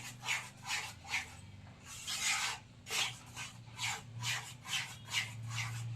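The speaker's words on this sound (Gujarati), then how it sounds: "બસ આપણે ધીમા તાપે લોટને સારી રીતે બધું ઘી અને લોટ એકદમ મિક્સ થઈ જાય ત્યાં સુધી રાખવાનું છે." Flour roasts in ghee over a low flame while a spoon scrapes and stirs it around the pan, making a regular, rhythmic rasping that repeats roughly twice a second, close and moderately quiet, with no speech.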